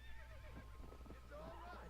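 A horse in the video game Red Dead Redemption whinnies, a faint, wavering neigh over low rumbling game ambience, with some hoof sounds and no clear talking.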